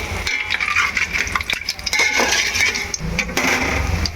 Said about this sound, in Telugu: ఇదైతే తాలింపు చేస్తున్నా.